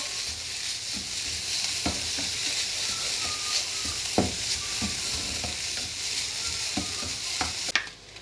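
Boiled shredded chicken sautés in a pan with a steady sizzling hiss, broken by occasional scraping stirs and a sharper utensil knock near the end.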